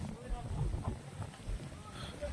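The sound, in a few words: cool mountain wind on the trail near Baltal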